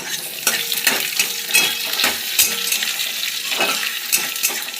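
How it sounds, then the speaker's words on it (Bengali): Spatula scraping and clinking in a pan while banana flower is stirred and fried with ginger paste and tomato, sizzling underneath, repeated irregular strokes close up. "আদা বাটা আর টমেটো দিয়ে দিলাম।"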